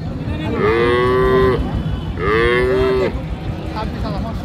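Two long, loud cow moos, each rising and then holding steady, with a short pause between them, over a steady background murmur at a Raniganj cattle market where Deshal-Sahiwal cows are sold.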